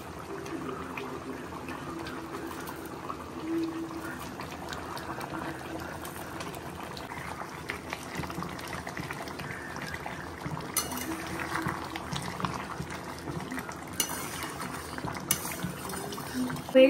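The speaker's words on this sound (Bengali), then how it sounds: "মাংসটা ফুটে গেছে, অনেকটা সেদ্ধও হয়ে গেছে" Chicken curry meat bubbles as it boils in a pot, a soft, steady simmering burble with occasional louder pops, heard up close and fairly quiet, with a few faint clinks.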